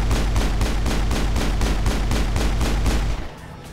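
Rapid, steady gunfire from a shooter game set in the Mass Effect universe, loud bursts in an even rhythm for about three seconds before cutting off abruptly, with no talk over it.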